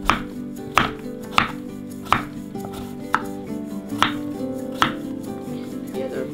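Vegetables chopped with a knife on a board while cooking Mazandarani vegan butternut squash rice, about a dozen firm, evenly spaced chops standing out clearly over a quiet kitchen background.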